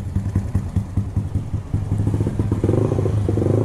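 Honda Beat 115cc scooter fitted with an aftermarket racing exhaust, idling close up with a loud, lumpy, rapid popping thump and a brief rise in revs toward the end.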